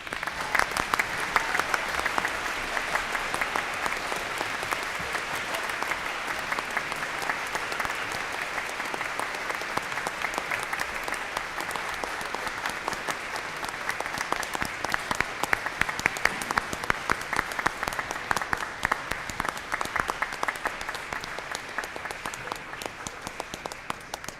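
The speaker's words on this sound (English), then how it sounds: "Being educated is a deserving round of applause." Sustained applause from a large crowd at a high school commencement ceremony, steady and even throughout without letting up.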